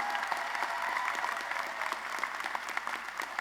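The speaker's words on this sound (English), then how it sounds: "Please join me in another round of applause for these students and this extraordinary recognition." Steady applause from a large crowd at a college commencement ceremony, dense and continuous clapping throughout at an even level, with no voices standing out.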